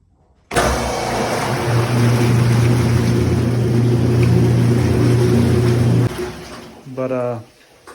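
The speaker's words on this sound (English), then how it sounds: "This is the mixer." A milk mixer in a calf barn starts abruptly and runs with a steady, loud mechanical hum for several seconds, then cuts off, leaving a brief quieter tail with a short rising whine at the end.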